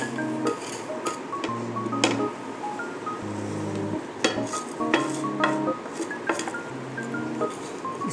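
Fried peanuts, makhana and crispy potato lachha namkeen are stirred together in a metal bowl, giving a steady run of dry rattling, scraping and clinking close by, with no talking.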